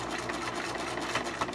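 A sewing machine runs continuously while top stitching a fitted face mask, producing a steady, close, even whir throughout the short stretch.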